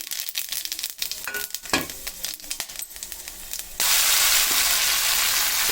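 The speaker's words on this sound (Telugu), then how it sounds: "ఇంకా దాల్చిన చెక్క, లవంగాయి, యాలక్కాయి, సోపు, గరం మసాలా తాలింపు పెట్టేస్తాకి" Whole spices including cinnamon stick, cloves, cardamom and fennel seeds hit hot oil on a stove for a garam masala tempering, sputtering and popping at first, then giving way to a loud, steady sizzle.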